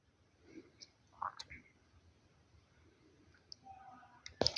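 A handful of faint, isolated computer mouse clicks sound sparsely over near silence, ending with a sharper, louder click.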